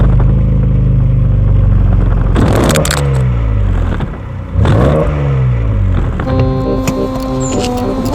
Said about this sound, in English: There goes Sydney the Mercedes off to its new home.